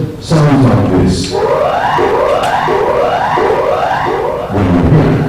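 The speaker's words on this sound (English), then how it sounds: "So what you're about to hear again is the standard emergency warning signal," The standard emergency warning signal for radio and television plays as a loud, repeated sweeping siren-like tone, rising in pitch over and over, framed by brief bursts of other sound at the start and end.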